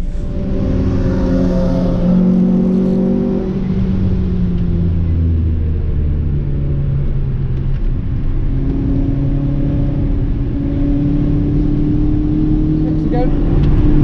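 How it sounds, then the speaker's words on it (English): Honda Civic Type R FN2 with a K20 engine lapping a race circuit, its loud, steady engine drone rising and holding through gear changes, close to the microphone, with a voice talking over it. "This is a K20 FN2 Civic Type R, let's go!"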